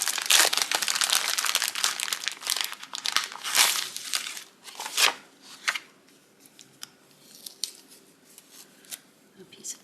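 An embroidered handkerchief is pulled from its paper wrapping, with close crinkling, rustling and crunching in bursts that thin out into sparse, softer rustles.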